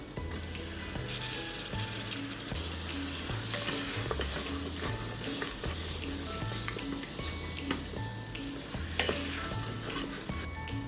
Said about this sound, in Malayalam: ഈ സമയം നമുക്ക് അരിഞ്ഞു വെച്ചിരിക്കുന്ന തക്കാളിയോട് ഇട്ട് കൊടുക്കാം